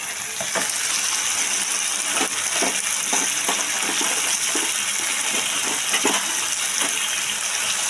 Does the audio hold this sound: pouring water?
yes